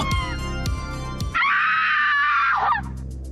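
A woman's long, shrill scream of terror rises suddenly after some sharp knocks and low rumbles, held loud and close for over a second before breaking off, set in a dark horror tale about a forbidden phone game.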